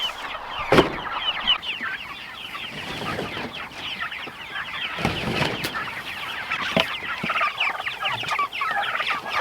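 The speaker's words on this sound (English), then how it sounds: "Good morning, meat birds. You guys are getting huge already." A flock of meat chickens clucks and chatters continuously nearby, soft overlapping murmurs broken by a few sharper thumps and rustles.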